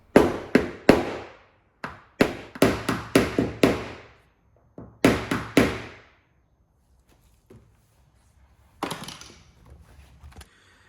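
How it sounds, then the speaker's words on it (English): Sharpened root beer knockdown tool tapped against dent high spots on a car panel during paintless dent repair, a series of sharp close knocks in quick clusters with brief pauses, then a softer scraping tap near the end. "I've sharpened the tip, so this is ideal for knocking down those micro high areas."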